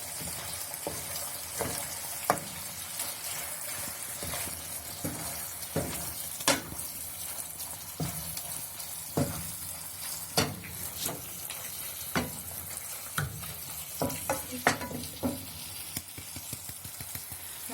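Chicken with Korean soy chili paste fries and sizzles in a pan under repeated stirring and tossing, with many clicking utensil scrapes spread across a long, steady stretch and no voices.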